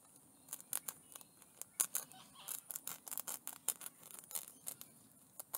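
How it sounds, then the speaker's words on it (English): A sharp knife cuts open a plant branch, giving a run of quiet, crisp snips and clicks in an uneven rhythm, close and faint, with no talking. "So Dave's just going to cut it open where he's going to put the branch"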